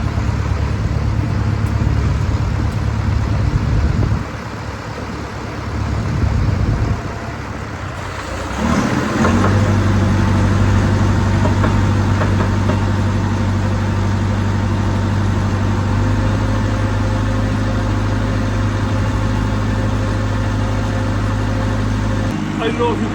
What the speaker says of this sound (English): I don't know if you can hear me over the noise of the agitator in the background